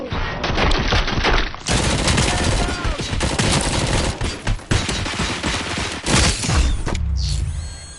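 Heavy automatic gunfire in the RoboCop: Rogue City video game rattles in loud, dense bursts for several seconds, with mechanical clanks and booms mixed in before it tapers off.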